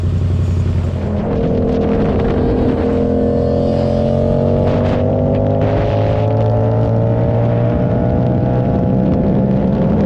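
A Yamaha R7 or R6 sport motorcycle revs hard at full throttle, its engine note climbing steadily in pitch through a loud, continuous pull with a rough, rumbling undertone and no talking.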